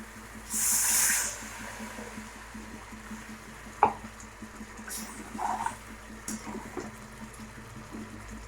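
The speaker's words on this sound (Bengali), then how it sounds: "মশলা তোমাদের ভালো কষে গেছে, জল দিয়ে দেবো।" Water hits hot fried masala in a pan, a sharp hiss bursting for about a second, followed by quieter bubbling and a few clanks of stirring.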